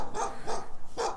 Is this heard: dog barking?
yes